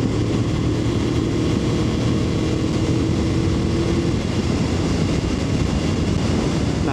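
A Moto Morini Calibro motorcycle cruises in sixth gear at about 3,500 rpm, its engine a loud, steady drone mixed with dense wind rush that holds an even level throughout.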